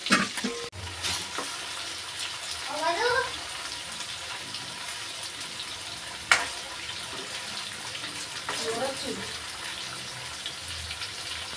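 Brinjal sizzles and fries in a pan for a brinjal masala curry, a steady soft crackle running throughout with a couple of sharp utensil knocks and brief scraping stirs, fairly close and moderately quiet.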